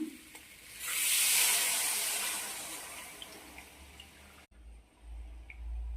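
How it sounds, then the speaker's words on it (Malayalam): Water is poured into a pan of cooking chicken pieces with oil, a soft rushing splash that swells for a few seconds and then fades out, with no talking. "കുറച്ച് വെള്ളം ഒഴിച്ചു കൊടുക്കാം"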